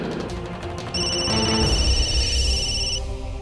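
A telephone rings with bright, repeating electronic tones over a low background bed in an Indian television drama, the ringing close and steady for a couple of seconds.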